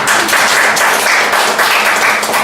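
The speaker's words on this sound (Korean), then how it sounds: "박수 한번 주세요." A church congregation breaks into loud, sustained applause, many hands clapping together in a dense, even wash that continues without pause.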